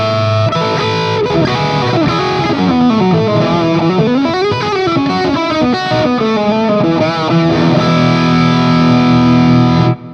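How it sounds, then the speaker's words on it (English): Overdriven electric guitar run through a Clarksdale overdrive pedal into the dirty channel of a Friedman amp, playing sustained distorted chords and bending lead lines, loud and continuous with no talking. "we're going to hear how that sounds over top of the dirty channel of the Friedman"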